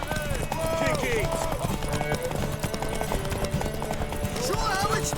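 Horse galloping in a race in the video game Witcher 3, rapid rhythmic hoofbeats close up with a whinny, mixed under shouting voices and game music.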